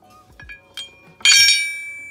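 Metal barbell weight plates clinking together: a few light taps followed by one bright ringing clank that lingers and decays, close and fairly loud with no talk.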